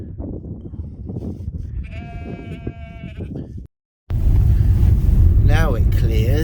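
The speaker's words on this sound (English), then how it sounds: "I think the sheep are confused because they're wondering why we have a sheep on a lead." Sheep in a field in South Wales give a clear wavering bleat over steady outdoor rumble, then after a short cut another louder, nearer bleat rings out against strong wind noise.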